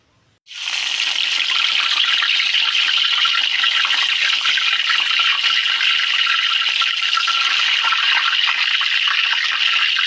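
Mulberry leaves are washed under running water that starts suddenly and then pours steadily and loudly, a constant close splashing rush that continues to the end.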